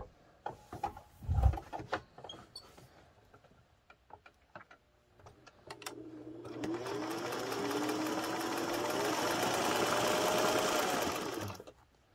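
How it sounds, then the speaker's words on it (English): A sewing machine runs steadily for about six seconds, stitching close along the piping on a pillow. Soft ticks and fabric handling come first, and the nearby motor's even whir stops abruptly at the end. "we're going to sew very close to the edge of the piping this time"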